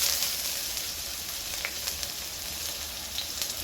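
Onion and ginger sizzle in hot cooking oil in a wok, a loud continuous hissing fry with small crackles and pops scattered throughout.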